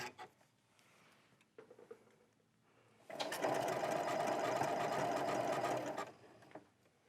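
A sewing machine stitching a buttonhole runs in a steady fast whirr for about three seconds, following a few quiet clicks and handling sounds, then stops.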